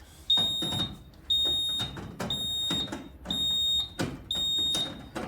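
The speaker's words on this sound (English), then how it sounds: "I've just disconnected a device, so that's why it is beeping" High electronic fault beeps from a Kidde Excellence fire alarm panel after a device is disconnected, repeating five times at roughly one-second intervals, each with a short clatter, in an otherwise quiet room.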